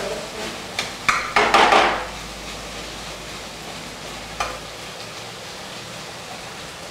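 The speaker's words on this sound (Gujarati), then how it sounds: "ડુંગળી સેલ સોફ્ટ થઈ ગઈ છે પણ એને થોડીક આપણે બ્રાઉન કરીશું." Onions frying in oil in a pan and being stirred with a utensil: a soft, steady sizzle with a short burst of scraping clatters early on and one more later, quiet and close, with no talking.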